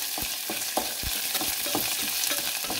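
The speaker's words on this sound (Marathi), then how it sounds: "सो आतां घालता ग्रीन चिली घाल. तर मातशें ताका फ्राय करून घेयात." Curry leaves and green chilies frying in a pan, a loud continuous sizzle broken by repeated stirring scrapes and knocks in an irregular rhythm, close up with no talk.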